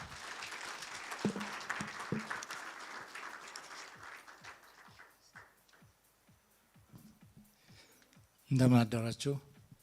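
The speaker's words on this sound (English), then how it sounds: "Please give applause for Dr. Abebe." Light applause from an audience at a child sponsorship event, fading into sparse individual claps, then a brief burst of voices near the end.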